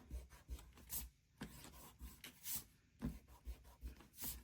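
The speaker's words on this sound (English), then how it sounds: "I want to see how it erases." A charcoal pencil mark is erased on paper with repeated rhythmic rubbing strokes. The rasping is soft and close, with brief pauses between passes and no talking.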